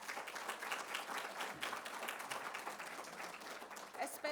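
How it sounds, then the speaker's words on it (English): Applause from the audience at an exhibition lecture on contemporary Chickasaw art, a dense, even patter of many hands clapping that fills the room for a few seconds, moderately distant, with no voices rising above it. "Round of applause."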